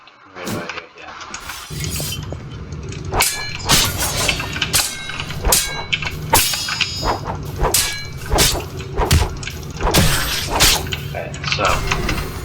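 Sharp metallic clangs and dings from a reaper bell used on an enemy in a video game strike repeatedly at irregular intervals over a noisy game background.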